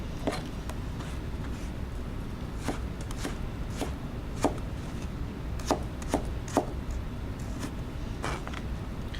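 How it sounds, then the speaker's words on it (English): A knife chops a vegetable into thin julienne sticks, 1/8 by 1/8 by 2 inches, giving a series of sharp, irregular taps on a cutting board over a steady low background hum, with no talking. "the first cut I wanna show you is called a julienne"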